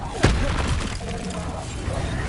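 A spell cast in Hogwarts Legacy lands as one sharp booming impact with a shattering edge, followed by a rumbling crackle that trails off.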